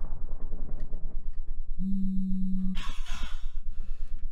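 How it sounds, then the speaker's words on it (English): An alarm sounds a single steady electronic beep lasting about a second, over a soft rhythmic pulsing background, and is followed by a short burst of brighter noise. "That was my alarm"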